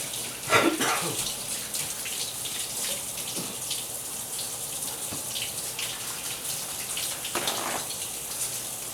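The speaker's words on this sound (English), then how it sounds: "I'm just going to wash my hands now because I've touched this turkey" Running tap water splashing steadily into a sink as hands are washed in a home kitchen while preparing a turkey, a continuous close hiss with a few louder splashes.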